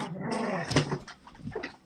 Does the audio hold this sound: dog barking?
yes